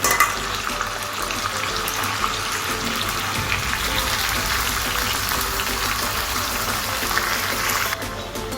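Raw medium-sized chicken pieces, a kilo in all, sizzle in a hot pan as they go in, giving a steady, loud, broadband fry hiss that runs unbroken throughout with no talk.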